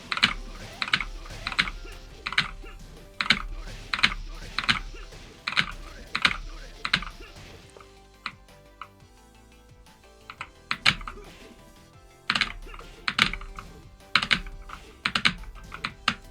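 Computer keyboard keys pressed in rapid rhythmic bursts while playing Tekken, clattering clusters of clicks with brief pauses, a quieter stretch midway, then more fast tapping.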